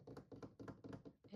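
Soft, close knocks and taps on an old oak desk come in a loose, irregular rhythm of several quiet hits, each with a short woody thud.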